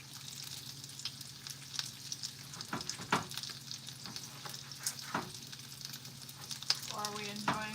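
Bacon tomato pasta sizzles and fries in a pan, a soft, steady crackling hiss with occasional louder pops and stirring scrapes near the end, fairly quiet throughout.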